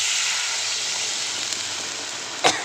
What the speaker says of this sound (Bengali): এখানে এক গ্লাস জল দিচ্ছি